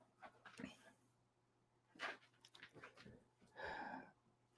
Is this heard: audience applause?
no